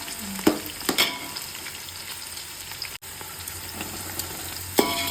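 Onions frying in a pan for vegetable pulao, a steady close sizzle with a few sharp scraping stirs near the start and end, no talk.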